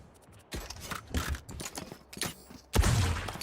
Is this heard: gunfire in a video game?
yes